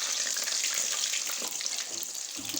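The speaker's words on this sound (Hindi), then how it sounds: "अब इनको हम फ्राई कर लेंगे।" Samosas, chicken and vegetable filled, frying in hot oil, giving a steady, loud broadband sizzle that continues without a break and softens slightly toward the end.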